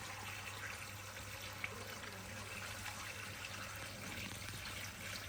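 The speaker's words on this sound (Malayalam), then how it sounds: "എടുത്തിട്ടുള്ള മഞ്ഞൾ ഫുള്ള് നമ്മൾ ഒരു കലത്തിലേക്ക് നല്ല രീതിയിൽ നിറച്ച് കൊടുത്തിട്ട് നമുക്ക് വെള്ളം ഒഴിച്ചു കൊടുക്കാം കേട്ടോ." Water poured into a clay pot packed full of turmeric, a steady, soft pouring and trickling wash that runs without a break, close and fairly quiet.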